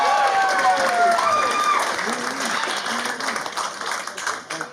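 Comedy club audience applauding and clapping for comedian Peggy, a loud steady wash of hands that thins slightly toward the end, with a voice talking over it.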